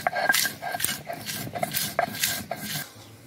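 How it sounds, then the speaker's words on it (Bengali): Dried chili peppers being ground for a village-style berry pickle make a close, rhythmic rasping and scraping, about six strokes in quick succession, with no talking. "এবার লঙ্কা আমরা গুঁড়ো করে নিচ্ছি।"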